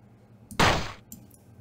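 A single loud, sharp gunshot from a weapon in Hideous Destructor, a realism-focused Doom mod, cracks out with a brief tail and a faint click after it.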